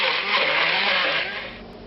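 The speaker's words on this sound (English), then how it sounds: "now you hit it with a stick blender." Stick blender whirring through mozzarella and cream, a steady, dense mechanical buzz that holds loud and even before easing off slightly toward the end.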